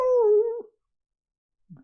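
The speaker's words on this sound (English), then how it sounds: "you hear the wailing of what sounds like a little dog" A little dog lets out a single high, wavering wail that fades after a moment, followed by a faint brief whimper, heard alone and fairly close.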